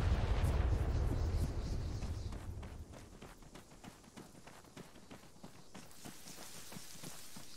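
Gunfire in the Arma 3 military video game: a heavy blast at the start fading out, followed by a series of sharp scattered shots, some distant, with faint voices.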